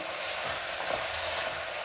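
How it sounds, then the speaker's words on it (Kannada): Fresh field beans (avarekalu) fry in an oil tempering with a steady, bright hiss and crackle, continuous and close, with faint stirring underneath and no talk. "ಸ್ವಲ್ಪ ಒಗ್ಗರಣೆಯಲ್ಲಿ ಹುರಿದ್ರೆ"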